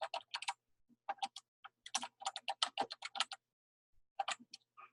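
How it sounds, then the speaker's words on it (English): Someone types a return address on a keyboard: quick clusters of crisp keystrokes come in uneven bursts with short pauses, close and fairly quiet, with no talking. "I type my return address, Mr. and Mrs. Simon, if I could type."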